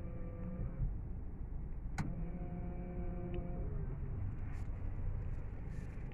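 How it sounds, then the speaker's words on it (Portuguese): Power side mirrors folding on a 2022 Toyota Corolla 2.0 XEi, heard from inside the car: a brief click followed by a soft motor whir under a steady cabin hum. "E também vou mostrar para vocês o rebatimento do vidro aqui, ó, do retrovisor, ó."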